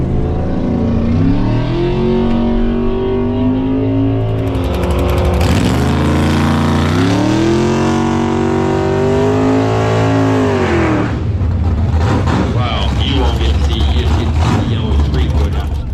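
A Tesla Model S lines up against a Buick Grand National on a freshly prepped drag strip. A loud engine roars and revs in rising pitch sweeps that build, ease off and swell again, close and continuous.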